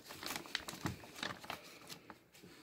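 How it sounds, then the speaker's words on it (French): Potting soil is sprinkled over sown pepper seeds in soft, close, gritty patters and crinkly rustles that come in quick irregular bursts, then fade. "maintenant on va juste recouvrir d'un petit peu de terreau"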